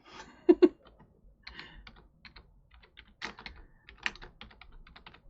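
Someone types slowly on a computer keyboard, close up and quiet: two firm strikes, then scattered irregular key clicks and short bursts with small pauses, with no speech over them.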